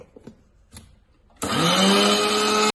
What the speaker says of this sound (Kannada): ಹೆಸರು ಬೇಳೆನ ಅದಕ್ಕೆ ಹಾಕಿದ್ದೀನಿ ಮಿಕ್ಸಿ ಜಾರ್ಗೆ ಅದನ್ನ ಪೌಡ್ರ್ ಮಾಡ್ಕೋತೀನಿ